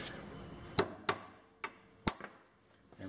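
Sharp metallic hammer strikes knocking out a ball joint on a Jeep WJ, about five spaced blows ringing against steel, fairly faint with quiet workshop background between hits.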